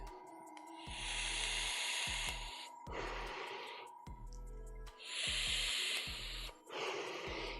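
An airbrush sprays out over-thinned hobby paint in several hissing bursts, each lasting about a second, with short pauses between them and a faint low hum throughout.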